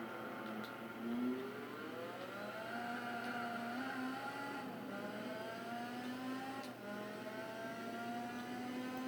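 An Opel Astra touring car in the video game Gran Turismo 4 sends out a faint, steady engine drone that rises and falls with gear changes, its pitch climbing and dropping again through repeated upshifts.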